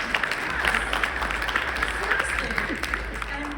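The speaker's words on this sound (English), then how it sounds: "let's clap for that" An audience at a talk on brain-computer interfaces breaks into steady, close applause that holds at an even level throughout, with voices heard beneath the clapping.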